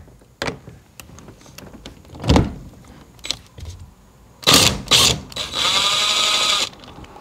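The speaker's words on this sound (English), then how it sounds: "Take that nut off." A socket wrench with a 13/16 socket and a 4-inch extension loosens a nut on a 1989 Chevy Silverado, heard as separate close ratcheting clicks and metallic clanks, then a sustained ratchet whir near the end.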